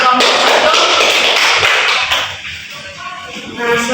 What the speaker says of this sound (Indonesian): Berikan aplaus kepada kelompok